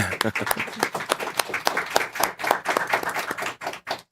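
A room full of people at a city council work session clapping steadily in a round of applause, dense and continuous, fading slightly at the end.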